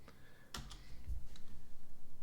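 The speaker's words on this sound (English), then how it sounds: "typing 90 on my keyboard" A few quick keypresses tap on a computer keyboard, faint and close, with a brief cluster of clicks followed by a soft rhythmic patter and no talking.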